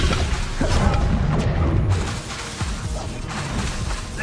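Incendio fire spell cast in Hogwarts Legacy: a loud, dense booming whoosh of flame and crashing impact that sustains for several seconds, with no talk over it.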